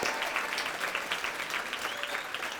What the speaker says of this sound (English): give her a really loud round of applause